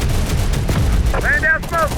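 Loud gunfire and thudding blasts from a video game battle roll on continuously, close and dense, with a voice calling out over the noise.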